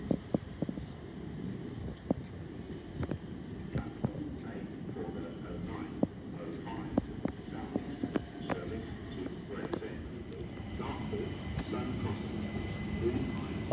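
Southeastern class 375 trains at London Waterloo East during the morning peak, a low rail rumble and rolling wheel noise with faint clicks, steady and moderately distant beneath a voice talking.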